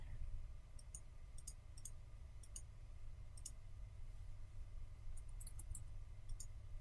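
Computer mouse clicks during Photoshop photo editing, sparse crisp single and double clicks at irregular intervals over a steady low hum, close and quiet, with no talking.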